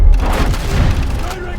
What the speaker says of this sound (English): Torpedo away! Enemy hit.